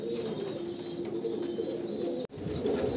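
A male Kalanka pigeon of Andhra pure bloodline coos steadily and close by, a low murmuring call running through the moment with no one speaking.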